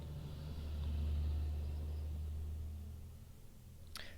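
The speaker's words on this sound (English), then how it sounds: "when a loud truck drives behind me" A loud truck passes close by outdoors, its low engine rumble swelling then fading over a few seconds, with no one talking.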